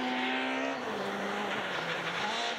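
On a Monte Carlo rally special stage, a rally car's engine howls loud and steady through a corner, its pitch dropping as it brakes and then holding high and strained throughout.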